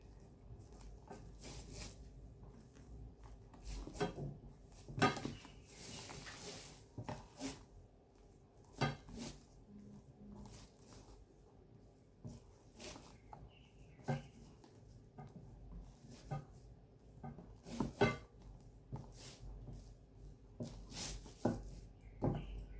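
Egg whites folded gently into cream cheese cake batter, giving soft scraping and light tapping of a spatula against the mixing bowl, fairly quiet, with irregular clinks scattered through and no talk.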